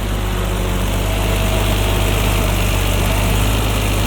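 The 3.5-litre inline-six engine of a 1991 BMW E34 M5, with individual throttle bodies, idles steadily with a low, even rumble and constant hum, close by, with no talking.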